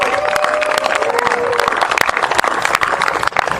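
A crowd gathered for a baseball team's celebration claps and cheers loudly and continuously, dense applause with a brief whistle early on and a murmur of voices mixed in.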